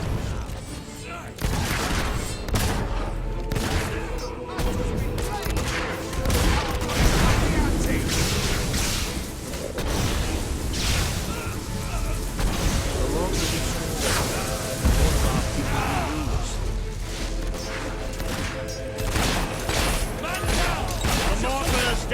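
A Fable III battle rages nonstop with gunfire, booms and mortar blasts, dense and loud throughout while voices shout over the fighting.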